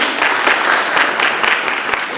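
An audience at a children's assembly session applauds to welcome guests, a thick, continuous roar of many clapping hands at steady strength, with no speech on top.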